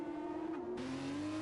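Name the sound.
F1 race car passing, from video game F1 2021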